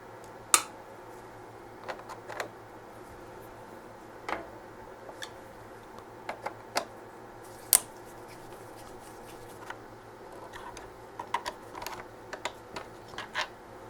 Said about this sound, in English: I'll be taking the screws out of the handle assembly here.